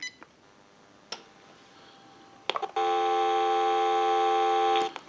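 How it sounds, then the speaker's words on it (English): A few faint clicks, then a steady dial tone from a General Electric 6.0 model 27909 cordless telephone hums for about two seconds before stopping abruptly. "go ahead and give you some dial tone"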